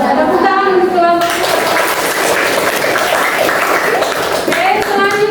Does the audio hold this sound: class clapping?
yes